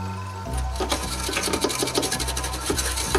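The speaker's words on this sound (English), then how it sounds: "Just a quick scrub with the old toothbrush." Old toothbrush scrubbed quickly over a PC parts board to clean leaked battery corrosion after washing with vinegar and alcohol, giving a steady rapid rasping brush strokes up close, with a low hum underneath.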